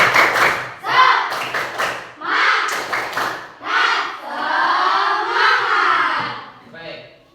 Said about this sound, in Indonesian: mari kita bertepuk semangat.